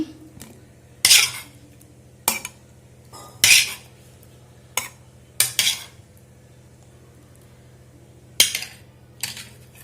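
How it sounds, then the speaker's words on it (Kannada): Fried ingredients for a green pea and potato pulao tipped into a steel mixer jar, heard as several sharp metallic clinks and scrapes of a spoon against the jar, spaced irregularly over quiet background. "ಫ್ರೈ ಮಾಡಿರೋ ಮಿಕ್ಸಿಗೆ ಹಾಕ್ತೀನಿ."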